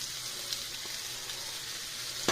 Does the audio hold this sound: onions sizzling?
yes